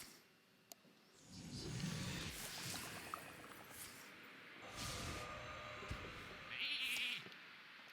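A sheep bleats in the Hearthstone card game amid other game sound effects, with a short wavering bleat near the end standing out over quieter background game audio.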